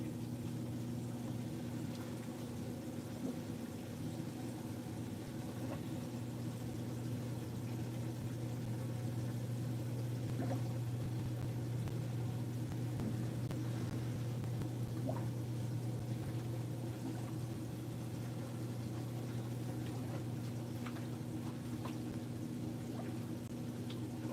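A GE GTW465ASN9WW top-load washing machine in test mode pumping out water, a steady low motor hum with continuous watery gurgling and rushing, constant and moderately quiet throughout.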